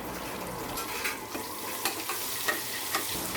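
Onions sautéing with fennel, cinnamon and cloves in a pan for a white kurma, giving a soft steady sizzle with a few light stirring scrapes; quiet and close, with no talking.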